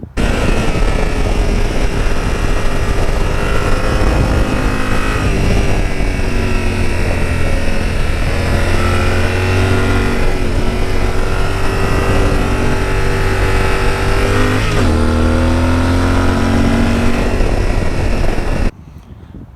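A 2019 Yamaha Super Tenere ES motorcycle ridden hard through twisty roads. Its engine drone and wind roar stay loud and steady, rising and falling with shifts in speed, and cut off abruptly at the end.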